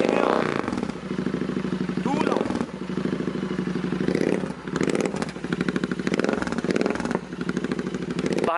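A Royal Enfield Interceptor 650 fitted with a Swagman exhaust and no dB killer is started and revved, producing loud, crackling bursts of exhaust that rise and fall in several pulses.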